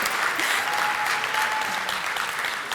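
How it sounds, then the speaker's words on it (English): An audience at an evening awards celebration breaks into sustained applause, dense and steady clapping filling the room for a few seconds, with no one speaking over it. "Clap, clap."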